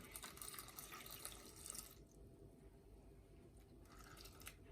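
Water is poured into a Thermomix TM6 for zucchini cream soup as a steady splashing rush that cuts off after two seconds, then a softer brief trickle follows.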